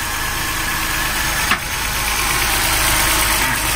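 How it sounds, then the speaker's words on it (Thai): A BMW car engine runs at a steady idle while its catalytic converter is being cleaned with a cleaning fluid; a loud, close, continuous engine drone with no talk. "ก็ทำการสตาร์ทเครื่องไว้นะครับเพื่อที่สร้างกำลังอัดเพื่อให้ออกสู่ท่อไอเสียนะครับ"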